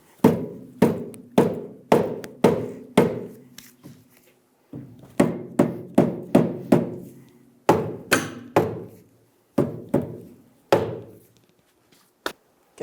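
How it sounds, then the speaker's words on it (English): A soft face hammer taps the rear knuckle of a 2000-2007 Ford Focus down onto its lower control arm. Sharp, dull thunks land in quick bursts of several blows, separated by short pauses, close up and with no talking. "Use a soft face hammer to tap the knuckle down to meet the control arm."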